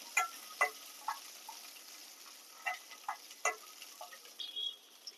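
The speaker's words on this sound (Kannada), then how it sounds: "ಸ್ವಲ್ಪ ಹಸಿಮೆಣ್ಸಿನ್ಕಾಯಿ ಫ್ರೈ ಮಾಡ್ಕೊಳ್ಳೋಣ" Green chillies frying in a pan for chutney, heard as a faint, quiet sizzle with sparse light clicks and taps of a utensil against the pan.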